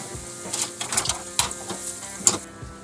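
Mushrooms frying in a pan make a close crackling sizzle broken by quick irregular pops and scraping stir strokes over a steady hiss, with no talking.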